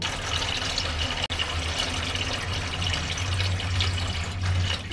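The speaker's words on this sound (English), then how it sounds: "So we'll pop a drop of water in and then we'll pop that in and let them soak right through." Water pours steadily into a seed tray to soak peas and beans, a continuous close splashing trickle with one brief break.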